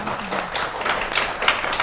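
A small group gives brief applause at a discussion event, scattered hand claps at moderate volume that run steadily for a couple of seconds.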